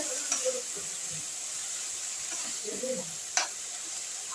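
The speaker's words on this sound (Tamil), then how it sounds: "நல்லா வதக்கி விட்டுக்குங்க." Broad beans (avarakkai) sauté for poriyal in a pan, a soft steady sizzle with a few light scrapes of stirring, close and fairly quiet, with no voice over them.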